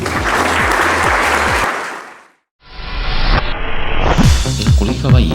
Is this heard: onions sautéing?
no